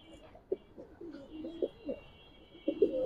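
Giribaz pigeons coo in a loft, several soft rounded calls rising and falling in an uneven rhythm across a few seconds, fairly close, with a faint steady high hum behind them.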